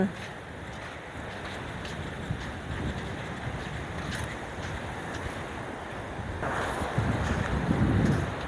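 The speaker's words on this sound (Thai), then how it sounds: "ลมแรงด้วย" Strong cool seaside wind buffets the microphone in a steady rushing roar, with surf-like noise behind and a gust swelling louder near the end; a voice speaks over it.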